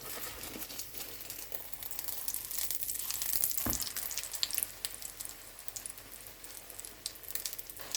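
Food fries in a pan while fried rice is being made, a continuous close crackle and sizzle with a brief clatter partway through, no voices present.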